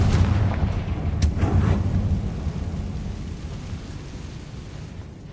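A Confringo blasting spell explodes in a Harry Potter video game, a loud booming burst with a rumbling, decaying tail that fades over several seconds.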